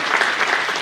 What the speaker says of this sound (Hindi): तो लड़कियाँ ताली जोरदार बजाए यहाँ